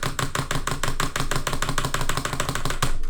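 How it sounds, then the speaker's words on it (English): Rapid edit-button and mouse clicking during Fortnite jitter editing makes a fast, even burst of close, sharp clicks that runs unbroken throughout. "It's basically where you click your edit button and then you instantly click your mouse button after that"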